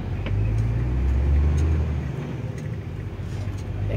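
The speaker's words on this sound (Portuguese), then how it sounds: "É carro pra lá e carro pra cá." Steady, loud low rumble of city traffic heard from inside a nine-axle truck's cab, with cars passing close by and a continuous engine drone throughout.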